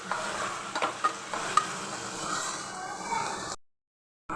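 Boiled, pepper-dusted beef pieces fry in a little oil with a continuous close sizzle and occasional stirring taps, then the sound cuts off abruptly near the end.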